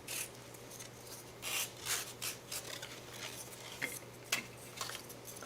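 Sandpaper rubs against a small piece of miniature dungeon terrain in short, close, scratchy strokes, with a few louder scrapes and light clicks in a quiet room.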